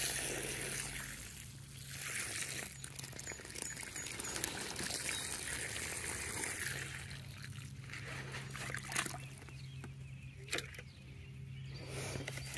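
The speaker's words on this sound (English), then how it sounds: "then we're going to fill it with water." Water pours steadily into a container, a continuous splashing rush with a faint low hum running through parts of it.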